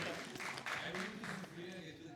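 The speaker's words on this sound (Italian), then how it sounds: "Un altro applauso" An audience at a school short-film screening and debate claps, a brief spell of applause mixed with voices talking over it.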